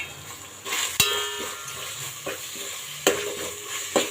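A spoon stirring biryani masala mixture in a pan, steady sizzling broken by sharp metallic clanks against the pan's side, close and distinct.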